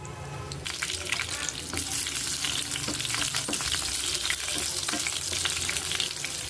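Mustard seeds, crushed cumin and six garlic cloves hit two tablespoons of hot oil for gongura dal, a dense close crackling sizzle that runs steadily throughout with small pops, no voices.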